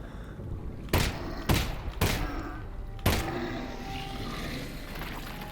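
Four sharp gunshots from a firearm in the Half-Life: Alyx VR game, spaced irregularly over a steady low ambient drone, each a loud broadband crack with a short decaying tail.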